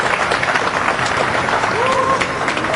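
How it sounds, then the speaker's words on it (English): Crowd applause and cheering at a pool match fill the background, a steady wash of clapping mixed with voices, fairly loud and continuous. "The applause you hear"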